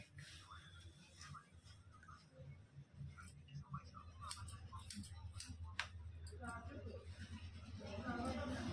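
Scissors snip through long hair during a U-shaped haircut, giving sharp, irregular clicks at close range while voices talk throughout.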